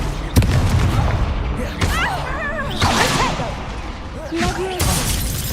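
Spells fly in the Hogwarts Legacy game, with booming impacts, whooshes and shattering bursts crowding together while a voice shouts incantations over the game's music.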